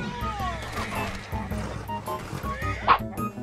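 A dog in Red Dead Redemption 2 gives several short, sharp barks and yips in the game world, with a person talking over them.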